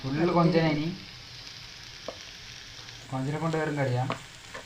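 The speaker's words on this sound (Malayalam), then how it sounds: "ഉള്ളി പച്ചമുളക് എല്ലാം ചെറുതായി അരിഞ്ഞ് എണ്ണയിൽ നല്ലോണം വഴറ്റി." Onions and green chillies sauté in oil with a steady, close sizzle throughout, while a tonal, voice-like hum rises over the first second and again near the end.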